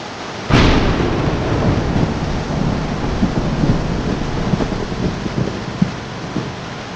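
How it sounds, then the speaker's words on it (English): A severe thunderstorm sound effect for an animation opens with a sharp, loud thunderclap, then heavy rain roars on steadily with faint rumbles and crackles, and no voices. "The severe thunderstorm"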